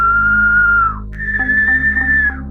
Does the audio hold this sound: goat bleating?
no